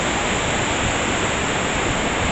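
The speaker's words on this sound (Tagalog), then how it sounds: "malakas yung lagaslas ng tubig ng waterfall" Loud, unbroken rushing roar of a garden waterfall, dense and steady throughout, nothing else audible.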